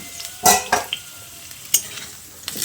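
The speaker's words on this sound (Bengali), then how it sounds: "এবার আমি একটা ঢাকনা লাগিয়ে আলুটাকে মিডিয়াম ফ্লেমে কিছুক্ষণ ভেজে নেব।" Potatoes frying in a covered pan on a medium flame, a low hiss under several sharp metallic stirring clanks and scrapes spaced out across the moment.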